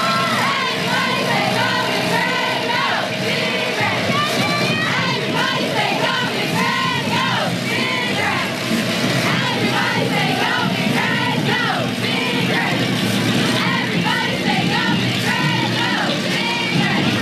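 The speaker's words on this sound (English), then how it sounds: "Palm Springs High School cheer squad saying something about pushing them back, push them way back." The Palm Springs High School cheerleading squad chants and yells in rhythmic unison while marching in a Christmas parade, their shouted calls repeating steadily over a continuous crowd murmur.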